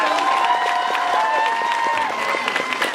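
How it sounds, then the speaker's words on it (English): A crowd applauds and cheers students at a middle school band awards evening, sustained clapping with some shouts and whoops mixed in, fairly loud and continuous. "Let's give them a round of applause."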